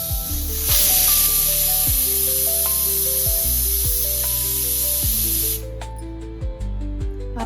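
A pressure cooker cooking stuffed eggplant with dried shrimp on a stove lets out a loud, sustained steam hiss for about five seconds, then cuts off, with a steady tonal melody running underneath.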